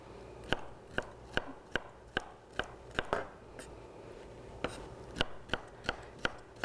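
A knife slices a bell pepper into strips on a cutting board, a series of about fifteen crisp, close chopping taps at a fairly regular pace, with no talk.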